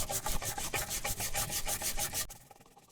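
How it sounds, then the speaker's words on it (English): A cloth scrubs old finish off a wooden vintage dresser treated with Simple Green, making close, faint rhythmic rubbing strokes at a quick steady pace. "if I scrub it hard enough, the finish is coming right off"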